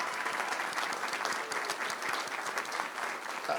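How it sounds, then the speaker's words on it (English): Steady applause from parents and staff at a school board meeting for agriculture program students, a continuous wash of many hands clapping at moderate distance, fairly quiet overall. "Let's give our students one more big round of applause."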